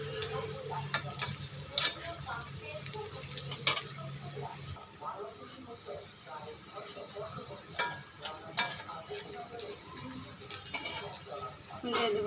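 About half a cup of onions sizzles in a kadai while they are fried until reddish, with frequent clicks and scrapes of a stirring utensil against the pan throughout, close up, with no speech.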